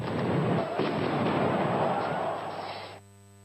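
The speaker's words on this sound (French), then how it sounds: "Les forces anti-émeutes ripostent à coups de gaz lacrymogène et de grenades assourdissantes." Loud, sustained blast and roar of stun grenades fired by riot police at a protest in Athens, a dense booming rumble lasting about three seconds before cutting off abruptly.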